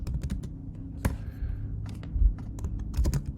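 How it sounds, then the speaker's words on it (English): Someone types on a computer keyboard at close range, with quick, irregular key clicks and a few louder thumps over a low background hum. "This is still typing."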